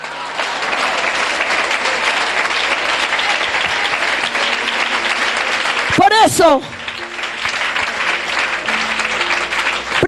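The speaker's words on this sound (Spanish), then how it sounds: "Denle un aplauso al Señor." A congregation at a church service applauds in a sustained, steady burst. A voice speaks briefly over it, and a sweeping electronic tone cuts through partway.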